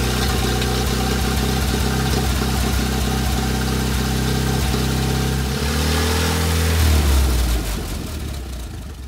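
Land Rover Series 1 engine catching and running after a carburetor swap, a loud, close, steady, lumpy mid-pitched idle with a throttle blip near the end before it settles down.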